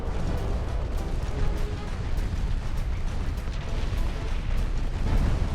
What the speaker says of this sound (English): Oh, a torpedo did hit.